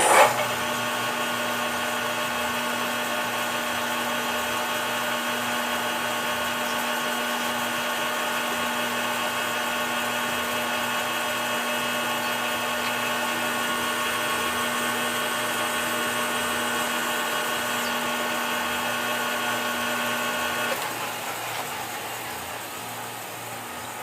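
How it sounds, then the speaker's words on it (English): A Chinese Enco center drill bores into a cast iron handwheel, giving a steady whining machine drone with a sustained tonal hum that runs unbroken for about twenty seconds before easing slightly near the end. "this is a Chinese Enco center drill"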